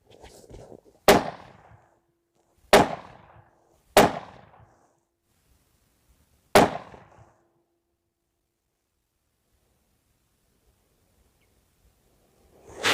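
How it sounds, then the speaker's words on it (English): Four separate 300 Win Mag rifle shots with Berger 205 Elite Hunter rounds at a range, irregularly spaced over several seconds, each a sharp loud crack with a brief echoing decay, followed by a long stretch of quiet. "we're going to shoot our Berger 205 Elite Hunters"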